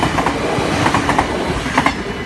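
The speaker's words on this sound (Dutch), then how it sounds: "Maar ja, nog zo'n bijzondere trein." A passing train in Nieuwstadt rumbles loudly and steadily, with rhythmic clickety-clack of wagon wheels over rail joints throughout and no voices.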